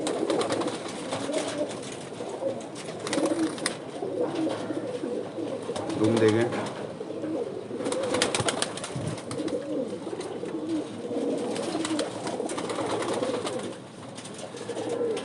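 Pigeons coo softly and repeatedly close by in a rooftop loft, while someone talks over them through most of the stretch.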